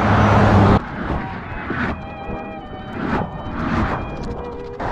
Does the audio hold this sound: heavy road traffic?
yes